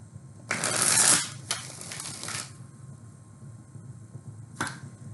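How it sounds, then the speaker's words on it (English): Tarot cards being shuffled close up, a loud riffling burst followed by a few shorter flicks and a final brief snap of the deck, with no talking. "One more shuffle."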